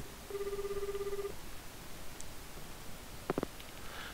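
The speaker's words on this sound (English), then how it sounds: "I pick up the phone in the infirmary and punch in the mansion's number." A phone rings in the video game Spirit Hunter: Death Mark II, with one long steady electronic tone followed later by a short burst of quick clicks, fairly clear over faint background noise.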